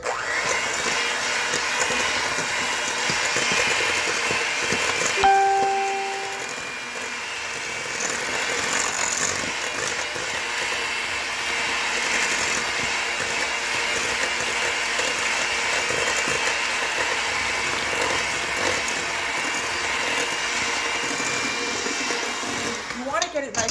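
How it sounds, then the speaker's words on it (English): An electric hand mixer whirs steadily and loudly as brown sugar and egg yolks are beaten together for a Swiss roll, a continuous buzzing drone that runs nearly unbroken from start to finish. "start mixing the sugar and the egg yolks together"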